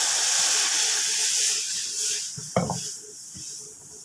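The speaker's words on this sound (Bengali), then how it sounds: "এবার আমি জল দিয়ে দিচ্ছি।" Water poured into a pan of fried spices for a green amra chutney sets off a loud, broad sizzling hiss that gradually fades, with a single clunk of a utensil partway through.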